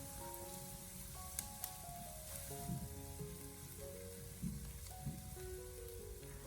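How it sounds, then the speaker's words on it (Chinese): Minced garlic stir-fries over low heat in a pan, a quiet, steady sizzle with occasional soft scrapes of the spatula, heard alone. "把蒜末给它炒出香味"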